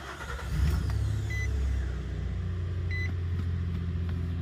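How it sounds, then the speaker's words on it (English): A Nissan pickup truck engine, 2005–2019 generation, starts up and settles into a steady idle, with a low rumble and a couple of faint electronic beeps. "Now you want to start up your truck."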